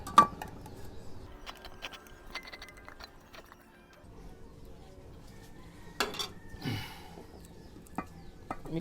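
Primer thinned with paint thinner being stirred in a container before painting motorcycle fairings, with faint intermittent clinks and scrapes against the container sides and no voices.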